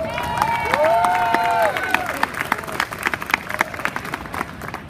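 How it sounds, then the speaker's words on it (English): An audience at a cosplay competition claps and cheers, scattered sharp claps rising under a loud whistle and shouts early on, then thinning into irregular individual claps. "Big round of applause!"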